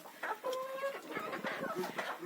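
Chickens cluck softly in short, close bursts, a few hens murmuring together with no talking.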